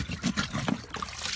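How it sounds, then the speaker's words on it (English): A 2-gallon watering can dunked into a garden rain barrel fills with water, giving a close, continuous gurgling trickle with small splashes throughout. "I just take my 2 gallon watering can, I dunk it in the barrel"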